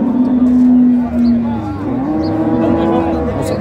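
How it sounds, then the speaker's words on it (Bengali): Cows and calves of good dairy breeds mooing at a crowded rural cattle market, Raniganj haat in Dinajpur; a long, loud, close low moo carries over market chatter, with further drawn-out bellows following. "গাভী বাছুর।"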